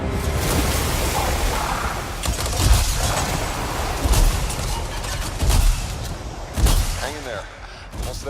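Video game gunfire crackles as dense, rapid bursts of shots in a noisy battle mix, with louder volleys recurring every second or so while players talk over it.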